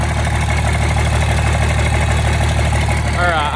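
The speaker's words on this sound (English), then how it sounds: "Sorry for the noise. The open turbo kind of sucks" A third-generation Dodge Ram Mega Cab Cummins diesel with an S366 turbo and hood stack idles steadily with a low, rumbling drone and a whooshing open-turbo hiss, loud and close throughout.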